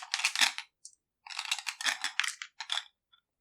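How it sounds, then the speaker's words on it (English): Seven dice clatter and rattle across a tabletop during a miniatures battle game, two bursts of bright clicking tumbles close by that trail off into a few last taps, with no talk. "I roll 7 dice."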